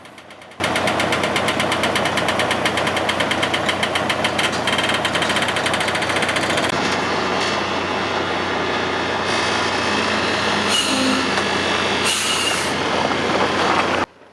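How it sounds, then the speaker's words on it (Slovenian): A first-generation Mercedes Actros truck tips its trailer and then unhitches it: a loud, continuous diesel drone with rattling machinery, broken near the end by sharp bursts of air hiss. "kipanje prikolice in zatem njen odklop."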